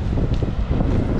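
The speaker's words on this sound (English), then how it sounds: "But it's super windy" Strong wind in Iceland buffets the microphone in a steady, dense roar with no pauses.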